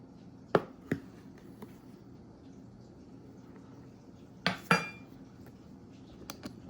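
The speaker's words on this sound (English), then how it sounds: "I'm going to take my flour and spoon it into my cup." Flour being spooned into a measuring cup for chewy sugar cookies: a few sharp, close clinks and light scrapes of a spoon against the cup, spaced apart over a quiet background with no talking.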